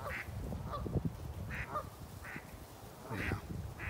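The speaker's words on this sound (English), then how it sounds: "now the geese are getting mad." Agitated geese at a lake honk repeatedly in short, irregular bursts, close and fairly loud, mixed with lower grunting calls and no talking.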